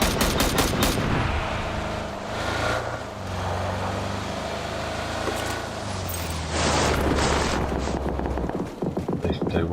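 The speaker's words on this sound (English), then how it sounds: "Ah, they're shooting each other." Gunfire in the video game PUBG: rapid automatic bursts crackle at the start and again near the end, with vehicle engine rumble running underneath throughout.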